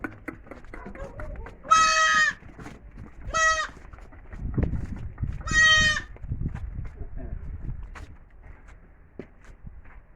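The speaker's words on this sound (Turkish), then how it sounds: "Evet arkadaşlar keçi oğlağını şey unutmuş." A mother goat bleats three times, loud and close, with hooves shuffling and movement sounds in between.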